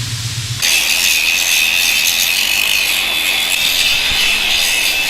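Angle grinder working on metal parts during an axle swap on a Suzuki LJ20, a steady loud close grind with a broad hiss after a brief low hum at the start, no talk.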